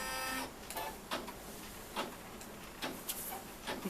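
A Brother embroidery machine starts to stitch with a busy, rhythmic mechanical chatter and regular louder clacks, close by and without speech.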